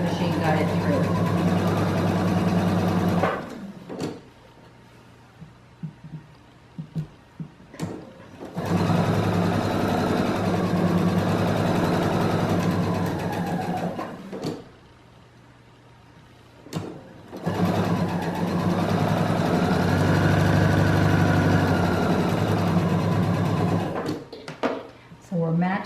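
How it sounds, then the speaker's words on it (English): Sewing machine stitching quilt pieces at a quarter-inch seam, running in three long steady bursts with short pauses between, loud and close; a person talks during the quiet gaps. "I let the machine draw it through and just keep my edge lined up and sew a proper 1/4 inch."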